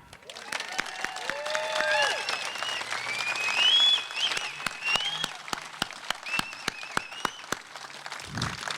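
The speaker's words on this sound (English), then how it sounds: "Now you can applaud." A crowd at the Hayward 9/11 memorial ceremony breaks into sustained applause, many hands clapping steadily and fairly close, with some voices and murmurs mixed in.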